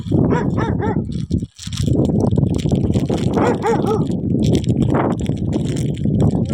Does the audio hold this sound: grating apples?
no